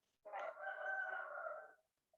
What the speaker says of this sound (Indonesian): Maaf ya kalau ada suara ayam-ayam masuk, backsound-nya ayam.